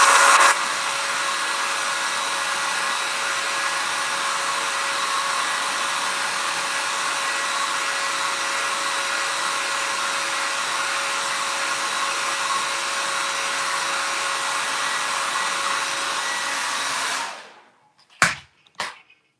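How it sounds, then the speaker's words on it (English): A hair dryer blows loud and steady for about seventeen seconds while drying paint on a live painting, then switches off, followed by a couple of sharp knocks. "When I want an area to dry, I use my hair dryer."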